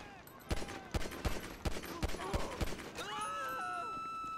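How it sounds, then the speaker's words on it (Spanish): Gunfire in GTA V: a string of about seven sharp shots at a steady pace, loud and close, then a lingering whistling tone with no talking over it. "Te disparo una pierna y sigues corriendo."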